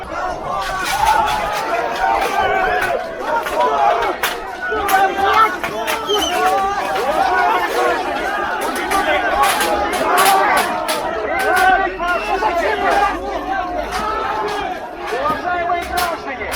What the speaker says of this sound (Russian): Ну вот толпа решила прорвать.